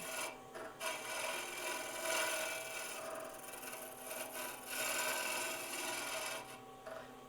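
A hollowing tool on a lathe scrapes and rasps inside a spinning wooden Christmas ornament, a continuous close scraping with brief pauses and shifts in pressure as the cutter moves through the wood.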